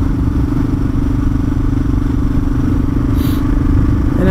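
A motorcycle engine idles steadily up close with a constant low rumble, rising slightly in pitch near the end.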